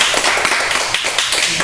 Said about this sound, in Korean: 자, 우리 박수로 환영합시다.